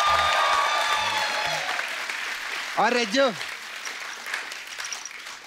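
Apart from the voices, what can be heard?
studio audience applause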